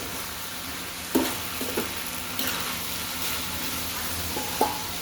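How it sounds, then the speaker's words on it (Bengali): Potatoes sauté in a pan for a fish curry, giving a steady close sizzle with a few sharp scraping stirs of a utensil against the pan spaced through the frying. "ভালো করে সুন্দর করে কষিয়ে নেব আলুগুলো"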